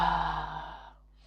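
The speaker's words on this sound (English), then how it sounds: "Deep breath in and release." A single long, breathy exhale from a deep breathing exercise, close and soft, tapering off into near silence.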